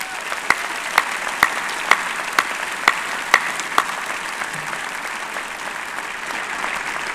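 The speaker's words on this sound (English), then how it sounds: "Let's have applause for these young," Applause from the audience at a medical school commencement ceremony, steady crowd clapping that runs through the whole stretch, with a string of sharper, louder claps standing out in a regular rhythm over the first half.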